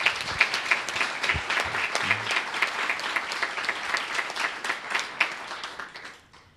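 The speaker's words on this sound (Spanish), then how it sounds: "el doctor Juan Manuel Delfino, por quien pido un fuerte aplauso" An audience at a public law conference breaks into a sustained round of clapping, dense and even throughout, then thinning and fading out at the end.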